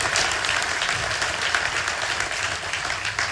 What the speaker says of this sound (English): That all deserves a round of applause.